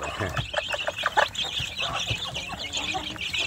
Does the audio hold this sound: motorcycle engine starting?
no